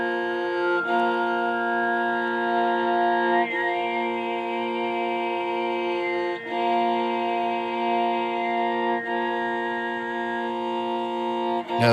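Throat singing harmonized with an instrument at a talent show, a steady droning tone rich in overtones, held continuously with brief dips and shifts in pitch, loud and alone.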